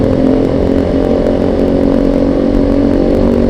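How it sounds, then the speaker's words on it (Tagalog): A motorcycle's loud exhaust pipe roars steadily at close range for the whole stretch, a constant buzzing drone with no revving changes and no talk. "di na makapag ang ingay ng pipe mo"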